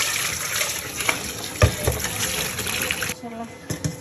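Tap water runs steadily over freshly cut ridge gourd pieces being rinsed in a kitchen, a continuous gushing wash with a few knocks and splashes, stopping shortly before the end.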